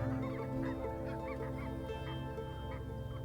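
Many geese honk repeatedly from a sandbar on Canada's great inland sea, a busy flock calling at moderate distance over steady low ambient noise, with overlapping calls throughout.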